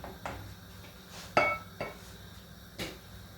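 A spoon stirs salt into kitchari in a pot, giving four separate clinks and scrapes against the pot, each fairly close and moderately loud, with quiet gaps between them.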